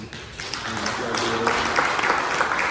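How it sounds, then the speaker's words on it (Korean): Church congregation applauding during a Sunday worship service, clapping that swells in after a brief opening voice and continues steadily at moderate volume in a reverberant hall. "우리 박수로 우리 한번"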